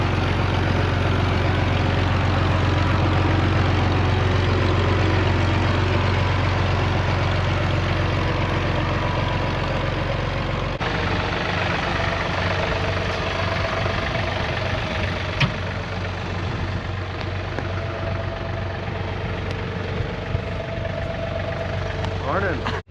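An old tractor engine idling outdoors, a steady low rumbling drone with a constant throb that continues unbroken throughout, loud and close, with faint background noises later on.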